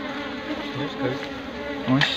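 Honey bees buzzing close by at a young hive with small new honeycombs, a dense, continuous droning hum with shifting pitch and a louder surge near the end.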